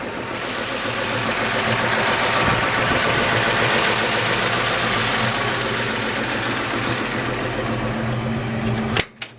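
A 1959 Chevrolet Apache 3100 shortbed pickup engine idles steadily and loudly up close, an even rumbling throb that holds for most of the stretch before a couple of sharp clicks at the end.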